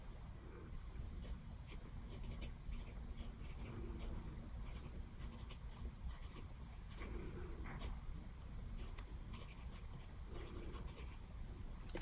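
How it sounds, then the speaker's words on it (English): A TWSBI Swipe fountain pen writes on paper with a steady, close scratching and gliding across the nib, continuing on its own with no voices. "So now we have a full pen, so we are going to write with it."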